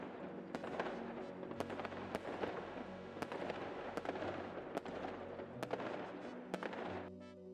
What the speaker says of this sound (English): Now, you may be wondering why Jagex's fireworks went off at 20k left for me.